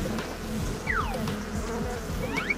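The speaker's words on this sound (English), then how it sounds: "I can hear someone buzzing" Insects buzzing loudly and steadily throughout, with a low droning hum and a few rising and falling whines as bees pass close by.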